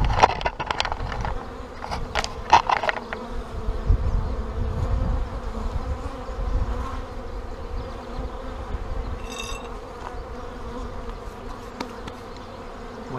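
Honeybees swarm around a disturbed, stressed hive in a dense, continuous buzzing hum heard up close, with a few sharp crackles and knocks near the start and no talking.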